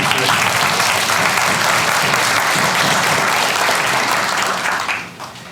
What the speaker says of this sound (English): a big hand to Sam Trevino